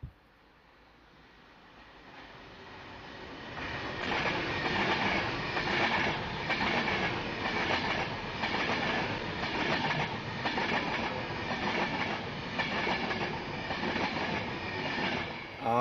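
A Class 390 Pendolino passenger train on the London Euston to Glasgow Central service rushes through Lea Hall station, swelling from a distant rumble into a loud, sustained roar with rhythmic wheel clatter as it passes close by.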